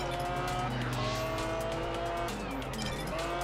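A McLaren F1 racing in Test Drive Unlimited, its engine droning steadily with rising and falling gear pitches and faint tire squeal, loud and continuous with no talking.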